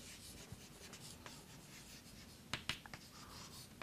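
An equation being handwritten during a maths lesson on irrational numbers, with faint scratchy strokes and a few sharper taps of the pen close by in a quiet room.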